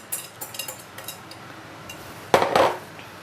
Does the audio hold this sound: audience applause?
no